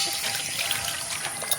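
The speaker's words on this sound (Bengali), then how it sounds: "উরি বাবা, কত জল জল জল, স্নান হাপুস।" Bathwater splashing and trickling as a baby is bathed, a close, brief run of light sloshing and dribbling water.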